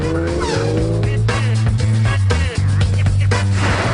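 A car drives hard and skids, with loud engine drone and screeching tires close by throughout, and several short bursts of noise over the sound.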